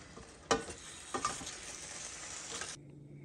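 Chicken samosa roll filling fries in a pan, a bright sizzle with a couple of stirring scrapes, cutting off abruptly near the end.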